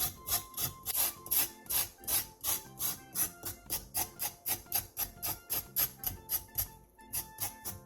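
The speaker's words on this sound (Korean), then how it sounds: "우엉 두 대의 껍질을 칼을 이용해 살살 긁어낸 뒤 물에 한번 씻어내 주세요." A knife scrapes burdock root skin in quick, rhythmic strokes, a steady rasping under soft background music.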